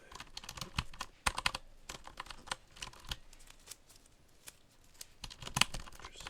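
Computer keyboard keys are handled and tapped during cleaning, giving sharp, irregular plastic clicks and clacks up close, with quiet stretches between bursts and no talking.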